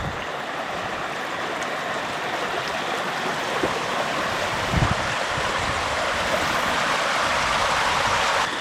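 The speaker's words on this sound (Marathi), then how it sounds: "हा बघा, हा धबधबा मी म्हटलं होतं तुम्हाला." A waterfall pours during heavy rain at a crab-hunting camping spot, a steady broad rushing roar, close and even throughout, with a faint thump near the middle.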